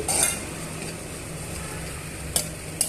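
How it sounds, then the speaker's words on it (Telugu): Dry fruits frying in ghee for rava kesari, a steady soft sizzle with faint stirring and two brief metallic clinks of a utensil near the end, close and without any voices. "ఈ గీలో డ్రై ఫ్రూట్స్ని వేగనివ్వాలి"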